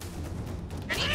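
A cat meows in South Park: The Fractured But Whole, one short bright meow near the end that rises over a low, steady game background.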